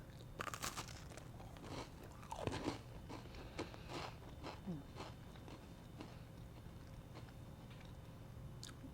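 Close, crisp crunches from biting into a thin, crunchy chocolate chip cookie made with freshly milled flour, several sharp cracks followed by softer chewing in a quiet room.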